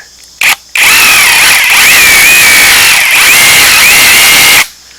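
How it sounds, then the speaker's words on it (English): A loud, steady SDS drill hammering continuously on a T-post for several seconds, with a high whine and dense rattling, starting after a couple of short bursts and stopping abruptly. "use the drill and just see if it'll work"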